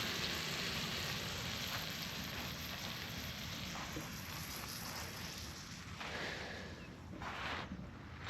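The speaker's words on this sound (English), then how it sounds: "Y'all hear that sizzle?" Steady, dense crackling sizzle of butter in a hot pan, close and continuous with no voices over it.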